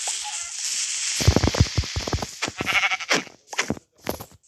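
Sheep bleat in a video game several times in quick succession, wavering and nasal, some overlapping, with brief quiet gaps between the later calls.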